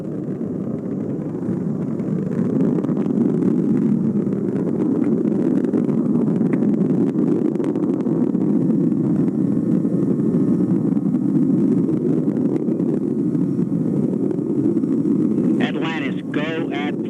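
The three liquid-fuel main engines of Space Shuttle Atlantis roar steadily through its final launch as a loud, continuous broadband rumble, with a voice talking underneath.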